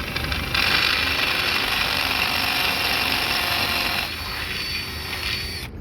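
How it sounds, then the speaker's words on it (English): A power drill bores out a hole in a sailing block, a steady harsh whine and grinding running continuously for several seconds at close range, easing slightly near the end. "I'm gonna drill it out, and I'm gonna make it a little bigger"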